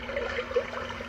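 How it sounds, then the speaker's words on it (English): A white noise sleep machine plays a water setting, a soft continuous trickling and splashing flow with a small bubbling blip midway, quiet and steady. "water,"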